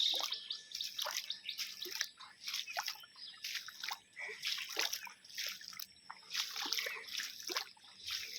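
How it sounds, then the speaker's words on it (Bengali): Legs pushing through knee-deep floodwater covering a paved road after rain, with repeated close sloshing and splashing strokes in a steady walking rhythm, moderately loud and without talk. "পুরো 1 হাঁটু জল দাঁড়িয়েছে। এইভাবে জল ঠেলে ঠেলে যেতে হচ্ছে।"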